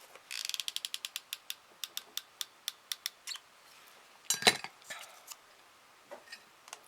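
Hot glue gun trigger clicking while gluing a bow onto an embroidery hoop craft: a quick run of sharp ratcheting clicks that slows to spaced single clicks, then a louder rustling burst and a few scattered clicks.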